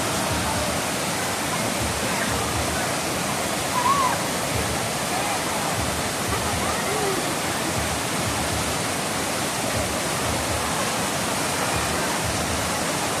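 Balagbag waterfall in Infanta, Quezon roars as a loud, steady broadband rush of falling water that fills the whole scene without a break.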